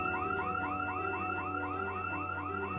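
A house alarm blares in Project Zomboid (build 41), a rapid, looping electronic whoop that repeats in a steady rhythm, loud and continuous with no voices.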